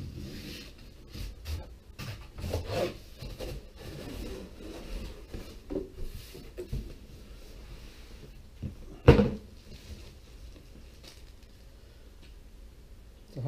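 Cardboard packaging for a Holley Terminator X Stealth EFI fuel injection kit is opened up close, with scattered rustles, taps and handling noises and one sharper knock partway through, in a quiet room with no talking.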